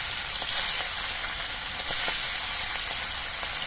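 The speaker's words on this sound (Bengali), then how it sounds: "আবার আমি কিছু মাছ ভেজে নিচ্ছি" Small puti fish frying in mustard oil in a wok, giving a steady, close sizzling hiss that holds at an even level throughout, with no voices.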